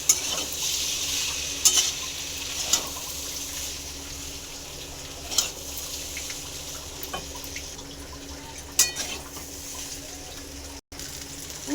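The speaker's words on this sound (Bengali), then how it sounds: "এবার আমি দেখো সব মিক্সড করে নিচ্ছি" A utensil stirs and scrapes ingredients in a frying pan over a soft background sizzle, with intermittent clinks and scrapes at irregular intervals, close and alone without talk.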